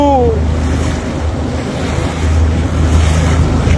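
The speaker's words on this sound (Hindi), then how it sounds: "ऐसे ही बोट घूमती है ना तो उसकी वेव्स आती हैं, जब लहरें बनती है।" Waves stirred up by a passing boat on the Ganga river lap and wash steadily against the shore, with a broad, continuous rush and wind noise on the microphone throughout.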